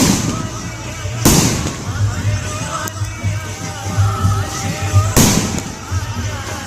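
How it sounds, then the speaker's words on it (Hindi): Two sharp firecracker bursts crack out several seconds apart, loud and close, at a Navratri Durga pandal in Gharghoda, with a busy crowd murmuring and chatter underneath. "सारा पटाखा वटाखा जला रहे हैं।"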